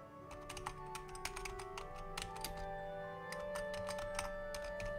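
Fingers type a folder name on a computer keyboard, producing a steady run of crisp, close key clicks in quick irregular bursts over a low background hum.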